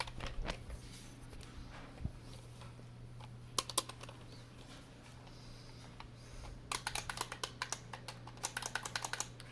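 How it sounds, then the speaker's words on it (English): Typing on a computer keyboard with plastic keys, heard alone as scattered key clicks that turn into fast, dense bursts of tapping toward the end, over a steady low hum. "Keyboard."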